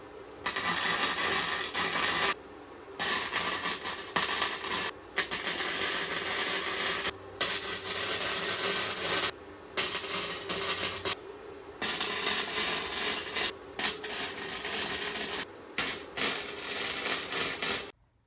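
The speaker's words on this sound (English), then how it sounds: "So I'm going to go ahead and start tacking these all together" Harbor Freight flux core welder tack welding a steel bumper and slider kit: loud, steady crackling buzz in repeated bursts of a few seconds each, separated by short silent pauses, with no talking.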